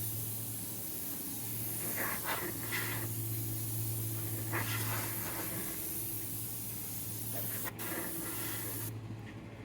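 An airbrush blows plain air with no paint, a steady close hiss that holds nearly unbroken for several seconds before cutting off near the end.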